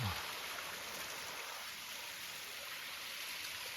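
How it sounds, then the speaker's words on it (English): A waterfall in Tenerife running after heavy rain makes a steady broadband rush of falling water, fairly quiet and even throughout. "A waterfall."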